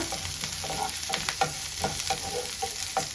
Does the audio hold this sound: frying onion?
yes